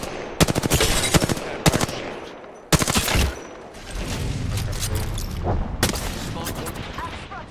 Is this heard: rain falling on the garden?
no